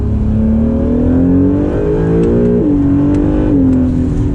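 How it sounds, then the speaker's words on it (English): 2017 Acura NSX hybrid with a Science of Speed exhaust accelerating through dual-clutch gears: loud rising engine note climbing steadily, dropping sharply at two quick upshifts, close and continuous with no talking. "Sounds good with that Science of Speed exhaust."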